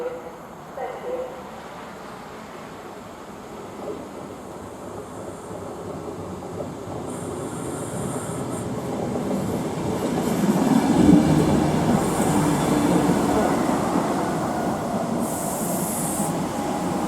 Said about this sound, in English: 20 minutes later, our train finally arrived.